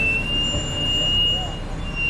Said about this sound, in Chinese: 这个刹车声音好响